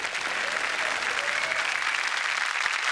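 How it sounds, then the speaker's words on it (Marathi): A studio audience at a Marathi comedy show bursts into loud, dense applause, a sustained close clatter of many hands that fills the whole moment. "जोरदार टाळ्या."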